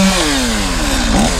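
A chainsaw cutting tree limbs while its operator stands in a raised tractor bucket, clearing storm damage on a farm; the engine whines loud and close, pitch sliding down under load, with no talking.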